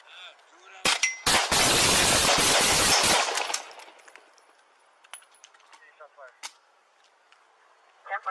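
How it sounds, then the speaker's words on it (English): Gunshots fired during a police encounter: a loud burst of rapid close shots lasting about two seconds, followed by quieter rustling and clinks. "Shots fired."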